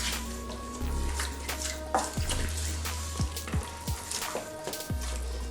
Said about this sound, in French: Donc je mélange bien